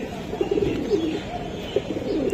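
Giribaz high-flying racing pigeons coo in a low, continuous murmur, several birds overlapping close by with soft rising and falling calls and no talk.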